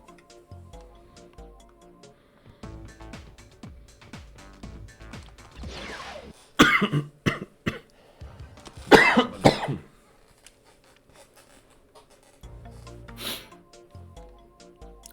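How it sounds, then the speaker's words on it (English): Several harsh coughs burst out in the middle of a quiet stretch, with a later short cough, amid light clicks and handling noises from someone playing a Crash video game; no speech. "Sorry about the coughing, by the way."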